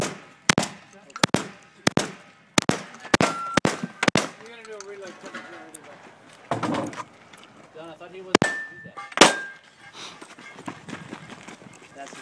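Shotgun, pistol and rifle fire rings out across a 3-gun competition stage, loud sharp reports coming in quick irregular bursts and single shots with short pauses between, while people talk and call out in between the shots.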